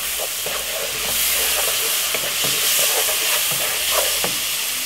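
Jamaican brown stew chicken sizzling in a pot as browning goes in, a loud steady frying hiss with repeated spoon-stirring clacks throughout, no one talking.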